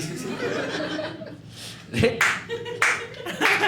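Scattered clapping from a comedy-show audience comes in short bursts, mixed with chuckles and laughter; moderately loud with uneven rhythm.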